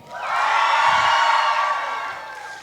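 A young crowd at a youth poetry slam final bursts into loud, sustained cheering, whooping and shouting with clapping mixed in, swelling quickly and holding for a couple of seconds before easing off.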